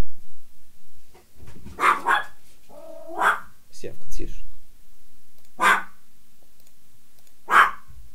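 A dog at a house door barks in several sharp bursts, spaced apart and fairly close, while someone talks in between during an online poker session.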